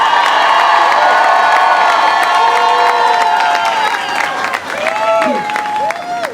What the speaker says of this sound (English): A round of applause for the 17th president of Texas Tech, Dr. Lawrence Stibnick.